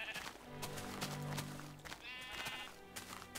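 Baby sheep bleating in Minecraft, several short, wavering bleats close by, faint against game sounds.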